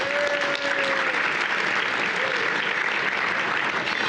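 A luncheon audience claps at length, a dense and steady wash of many hands that holds at an even level throughout.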